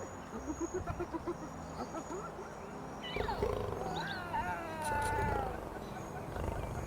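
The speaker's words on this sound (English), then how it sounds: "The 4 gaunt cubs press against their mothers, mewling softly." Lion cubs cry and mew in the wild, with several thin, wavering high calls over rustling and a low background rumble.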